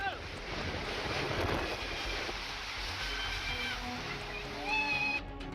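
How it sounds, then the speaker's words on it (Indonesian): Strong storm wind with hail batters an outdoor scene in Surabaya, a dense rushing roar of gusts and buffeting microphone noise, steady with brief surges and no clear voices. "ada hujan es sama angin kencang"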